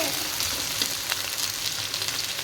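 Constant hiss and crackle of noodles frying in a pan, with occasional scraping and stirring sounds; no one speaks.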